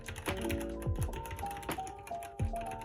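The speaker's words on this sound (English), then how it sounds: "The switches sound incredibly nice." Typing on a Redragon Draconic K530 mechanical keyboard, its clicky switches close to Outemu Blue but smoother, gives a run of close, crisp keystrokes in uneven bursts over a steady tonal background.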